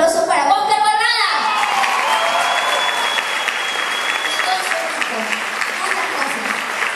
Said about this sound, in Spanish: quiero pedir un fuerte aplauso para Bunker Barrada